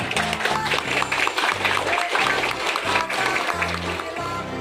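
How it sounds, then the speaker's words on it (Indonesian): A crowd at a Scout rally claps together in a rhythmic, patterned applause over sustained tonal music, the clapping bursts regular and fairly loud throughout. "Tepuk tangan untuk kita semuanya"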